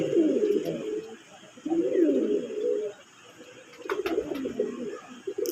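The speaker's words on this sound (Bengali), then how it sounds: "এরপরে আরেক জোড়া কবুতর থাকবে লাল মাথা সাদা" Domestic pigeons of a local colored breed coo in low, throaty bursts, three rounded phrases separated by short pauses, close and fairly soft, with no talking.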